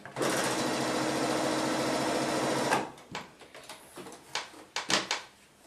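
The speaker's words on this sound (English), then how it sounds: "sew that with right sides together with our 1/4 inch seam" A sewing machine stitching quilt blocks with a 1/4 inch seam, running loud and steady for nearly three seconds, then stopping and followed by scattered clicks and knocks as the fabric is handled.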